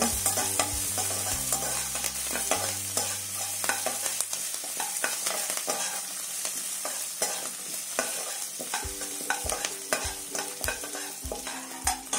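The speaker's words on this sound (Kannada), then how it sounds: "ನೋಡಿ 4 ಹಸಿಮೆಣಸಿನ್ಕಾಯಿ ತಗೊಂಡಿದ್ದೀನಿ. ಇದನ್ನ ಹುರ್ಕೊಳ್ಳೋಣ." Green chillies fry and sizzle in a hot pan with repeated stirring scrapes, a steady close hiss under the stirring, and no voices.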